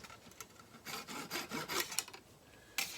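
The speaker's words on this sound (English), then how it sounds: "So now that we did these toothpicks, we just need to cut them flush." Wooden toothpicks are cut flush on a cigar box guitar, heard as quiet short rasping strokes, close and faint, ending in a couple of sharper snaps.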